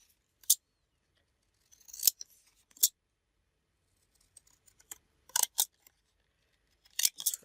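Scissors snip through a paper journal tag in quiet, isolated bursts of sharp cuts, some single and some in quick pairs, with silence between them.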